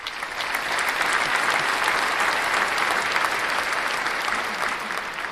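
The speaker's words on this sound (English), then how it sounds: "I'm going to give it a clap." Applause sound effect: a dense crowd clapping steadily at moderate volume, swelling slightly after the start and holding evenly until it tapers at the end.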